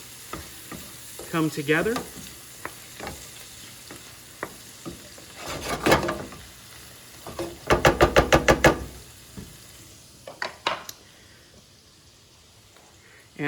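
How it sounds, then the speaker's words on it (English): Pasta all'Amatriciana sauce stirred in a pan over lowered heat, bursts of sizzle and rapid rhythmic scraping knocks between pauses, with brief talk over it. "give that a little stir around"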